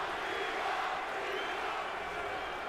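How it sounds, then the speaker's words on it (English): A boxing arena crowd at Bernard Hopkins versus Tavoris Cloud chants "B-Hop" in unison, a dense, steady roar of many voices filling the hall. "And the crowd begins to chant, B-Hop."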